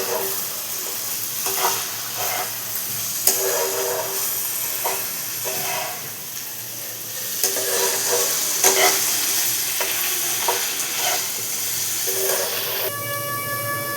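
Onion and poppy seed paste fries in a kadai, a steady close sizzle and hiss broken by repeated scraping stirs of the spoon against the pan, with no voices.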